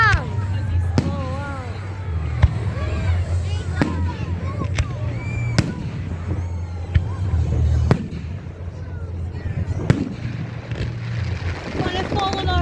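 Fireworks bursting overhead at a fun-day display, sharp repeated bangs and crackles at irregular intervals over a steady rumble, with people talking and reacting throughout.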